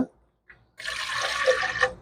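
Water pours steadily into a pressure cooker holding rinsed lentils, a continuous splashing rush lasting over a second after a brief quiet start, close and fairly loud.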